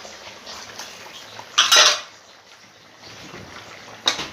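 A spoon stirs chicken curry in a metal pot, giving two sharp clanking scrapes against the sides among softer bubbling and rattling.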